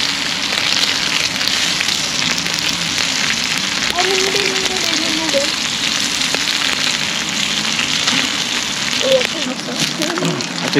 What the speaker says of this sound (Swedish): Det börjar regna.